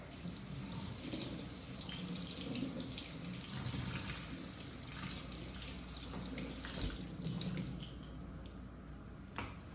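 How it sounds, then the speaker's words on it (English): Tap water runs steadily over a few strawberries in a holed container, a continuous close splashing and trickling that goes on throughout with no talking. "You can wash your strawberries right in this thing because it has holes in it"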